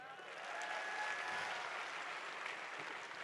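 Audience applause at an RCM Delhi anniversary gathering in 2017, a dense, even wash of clapping that holds steady throughout and sounds somewhat distant and soft.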